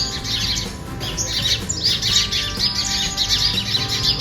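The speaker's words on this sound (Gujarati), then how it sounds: "પોપટ ને બધું બોલે છે, તમે જોઈ શકો છો." Many birds, including parrots and sparrows, chirp and squawk together in a neem tree, a busy outdoor chorus with bright repeated calls overlapping continuously.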